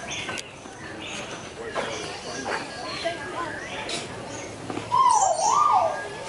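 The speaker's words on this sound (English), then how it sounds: "Look at that beautiful bird." A bird at an animal park gives a clear rising and falling whistled chirp near the end, heard over the murmur of people talking nearby.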